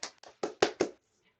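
Five quick, sharp hand claps in an uneven rhythm, close and dry, ending in silence.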